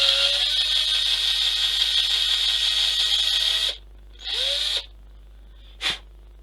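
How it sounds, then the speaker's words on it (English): A power drill drills into plastic, whirring at high pitch for several seconds, then stops, gives a shorter burst and a brief final blip, close by. "what I might do is get your trusty drill"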